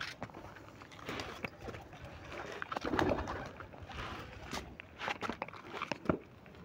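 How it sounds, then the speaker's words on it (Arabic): Pigeons in a small, low-roofed loft, soft close cooing and fluttering mixed with shuffling footsteps and light pecking, a continuous busy murmur at moderate volume. "في حمام عايز يجري يخش هناك اهو"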